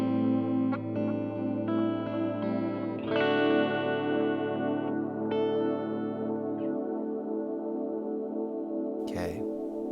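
Ambient delay effect from a Meraki pedal on guitar, sustained layered chords washing with echoes and shimmer, notes blooming and decaying smoothly, ending with a brief swell of noise; no talking.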